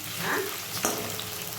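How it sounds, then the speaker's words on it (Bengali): Garlic and green chillies fry in hot oil, giving a steady close sizzle with a light stirring scrape partway through. "এই দেখো গার্লিক আর কাঁচা লঙ্কাটা দিয়ে দিলাম।"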